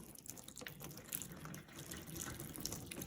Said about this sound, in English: the water is going down through the streams and down into our main water body